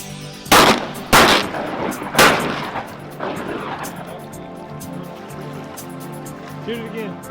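Shotgun blasts fired during retriever dog training in the field, three sharp loud bangs in quick succession at close range, their echoes fading into outdoor ambience, with people talking nearby.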